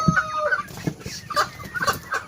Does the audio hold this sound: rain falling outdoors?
no